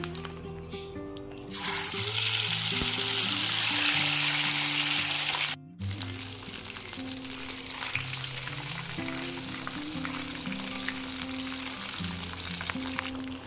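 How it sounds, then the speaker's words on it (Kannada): Kerala style fish sizzles and spits in hot oil in a pan, a loud, steady frying hiss that breaks off briefly midway and then returns softer, with background music throughout. "ಈಗ ಇದು 2 ಕಡೆ ನೀಟಾಗಿ ಫ್ರೈ ಆಗಿದೆ"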